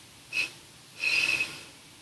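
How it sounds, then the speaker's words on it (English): Two short, breathy sniffs pushed out through the nose during a yoga breathing exercise, the first brief and the second a longer fluttering burst, close and fairly quiet with no talking. "that little pattern of long breath in and then the little sniffs out"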